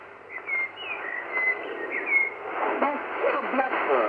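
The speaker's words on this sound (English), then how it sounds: "Mr. Blackbird, in Midsummer in Kew Gardens, sending you best wishes for you in the middle of your winter." Blackbird singing in Kew Gardens at midsummer, heard through a shortwave radio broadcast: fluting whistled phrases over hiss and band-limited static, with warbling notes continuing toward the end.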